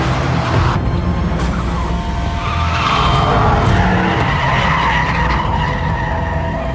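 A Mitsubishi Evo rally car skids and slides through a course, with a loud, continuous roar of engine and scrubbing tires that swells midway and holds steady throughout.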